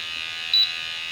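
A single short electronic beep from a RAE Systems wireless gas monitor as it joins its network, heard from slightly behind in a quiet room with a faint background hum.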